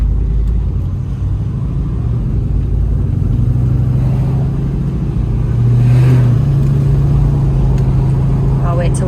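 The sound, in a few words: 1975 Chevrolet Camaro driving on road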